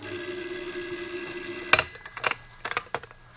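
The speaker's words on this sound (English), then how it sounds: "the phone rang. Its shrill ring filled the room." An old landline telephone rings in a quiet room in a 1949 radio drama, a few shrill bell bursts starting about halfway in after near silence, loud and close.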